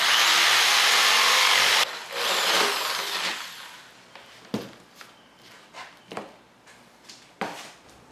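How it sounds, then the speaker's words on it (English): A power tool cuts a longboard shape out of a wooden blank, a loud steady whine for about two seconds, then a shorter burst and a series of scattered knocks and scrapes as the wood is handled. "Now we just gotta cut the shape out."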